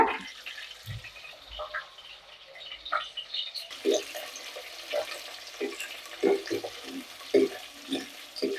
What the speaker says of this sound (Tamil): சின்ன வெங்காயம், பச்சை மிளகாய் எல்லாம் நல்லா வதங்கிடுச்சு